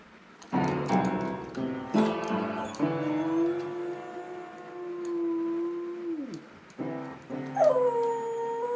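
Dog howling and whining along while pressing piano keys, a few loud plinked notes followed by a long, wavering sung howl that bends down, then more key presses and a rising yelp, close and clear.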